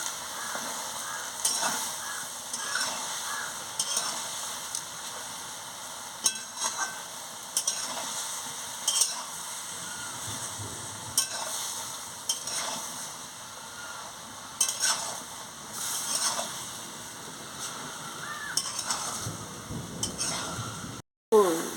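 Mixed vegetables are stirred and sautéed in a pan for a Bengali ghonto, with a steady sizzle and irregular scraping strokes that keep repeating throughout, close and moderately loud, with no one talking.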